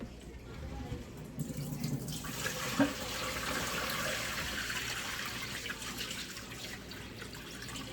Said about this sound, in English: So we drain it and we wash it again.